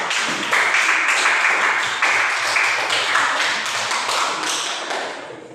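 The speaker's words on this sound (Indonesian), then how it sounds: "kita tepuk tangan untuk Profesor" An audience claps steadily for a professor at a university teacher-training session, a dense, loud, continuous wave of clapping lasting several seconds and slowly thinning toward the end.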